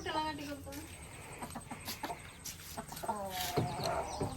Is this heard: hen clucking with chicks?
yes